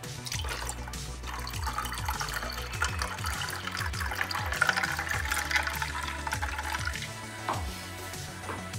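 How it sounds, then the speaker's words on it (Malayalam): Strained hibiscus squash poured into a glass over ice cubes, a steady close trickle of liquid with small clinks and drips, quiet and continuous for several seconds, no voices. "ഐസ് ക്യൂബ് ഇട്ട് ഗ്ലാസ്സിലേക്ക് അരിച്ചു വച്ചിരിക്കുന്ന സ്ക്വാഷ് ഒഴിക്കുക."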